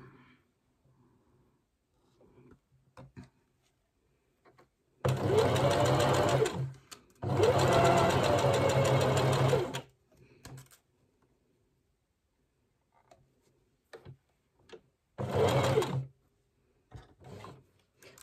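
A sewing machine stitches fabric for the head gusset of an ottoline. It runs in three loud, steady whirring bursts, two longer and one short, with quiet handling of the fabric between runs and no talking.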